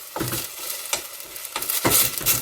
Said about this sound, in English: Giving a good mix.